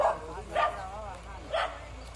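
Dog barks three times in short bursts, a puppy-like yip amid a Colombian household as food is brought to the dogs, with a voice talking underneath.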